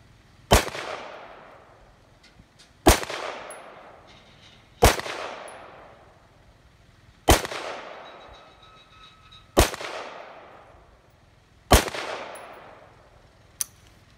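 Rifle with an Aero Precision .223 Wylde 18-inch upper fires six loud, sharp single shots at slow, irregular intervals, each with a ringing decay, and a faint click near the end.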